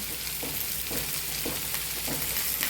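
Chopped tomato, curry leaves and green chilli sauté in a hot pan with a dense, loud, continuous sizzle, broken by a few regular scraping stirs. The sound is close, with no one speaking.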